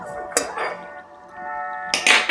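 A metal grill pan clanks down onto a stovetop with a bright metallic hit, a ringing tone lingering after, then a second clatter near the end.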